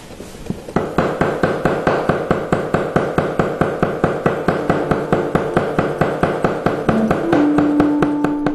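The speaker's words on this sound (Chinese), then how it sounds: "下刀时，要以左手食指后退速度相应起伏，先切片，再切丝" A knife slices and then shreds tofu for Wensi tofu on a cutting board, a fast, even run of crisp, close taps at a steady rhythm, with a soft tonal music line entering near the end.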